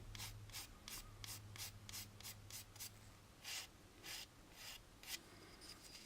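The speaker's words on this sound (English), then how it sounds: "we want to get rid of that cutoff point by cross sanding out to the edges" Repeated back-and-forth sanding strokes across a plastic warp engine part from an AMT 1983 U.S.S. Enterprise model kit, about a dozen quick rhythmic rasps, close and fairly soft, with no talking.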